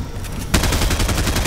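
An SMG in Fortnite rattles off a rapid, loud, continuous burst of gunfire that starts suddenly partway in and keeps going without pause.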